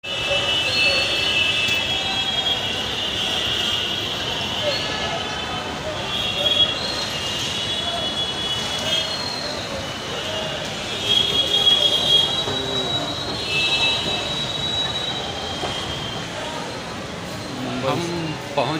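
A metro train at Charbagh station in Lucknow gives a long, sustained high wheel squeal over steady rolling rumble, with rises and swells as it moves through, and voices talking faintly underneath.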